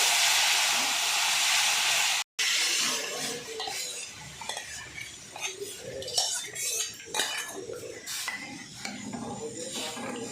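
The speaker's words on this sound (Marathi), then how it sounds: "आता हे पाणी जे शेंगदाण्याचं करून ठेवलेलं होतं ते घालून घेतलं" Peanut water poured into a hot pan for a rustic peanut curry, a loud hiss that cuts off abruptly, followed by clattering of a spoon or ladle against the pan and stirring, close by.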